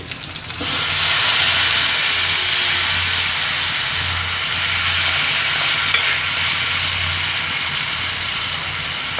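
Boiled bottle gourd pieces tipped into a pan of sizzling tempering for a tangy jaggery curry, setting off a loud, steady frying hiss with stirring that holds throughout, no voices.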